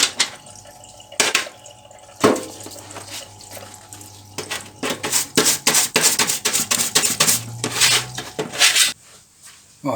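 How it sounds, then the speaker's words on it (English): Greasy metal parts get degreased in a parts washer, with running and splashing liquid, drips and sloshing, and bursts of agitated washing that grow busier toward the end. "So my first thing is to wash these in my parts washer, and that really does degrease them."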